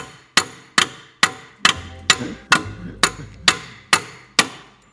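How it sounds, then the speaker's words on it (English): Sharp metallic strikes from a ratchet used as a hammer on Subaru suspension repeat at a steady pace, about ten hits in a row, each ringing briefly before the next blow. "Don't use the ratchet as a hammer, just get the hammer."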